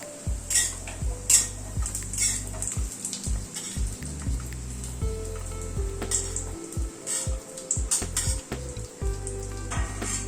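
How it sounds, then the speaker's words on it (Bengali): Kalai dal bori (lentil dumplings) frying in oil in a wok, with a steady sizzle and repeated clanks and scrapes of a metal spatula against the pan, close and fairly loud, no voices. "বড়িটাকে ভেজে তুলে নিচ্ছি"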